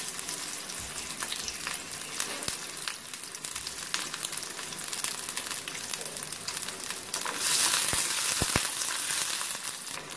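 Whole small onions sauté in hot oil for a home-style chicken curry, a steady close sizzle and crackle with scattered pops, swelling louder for the last couple of seconds, no voices.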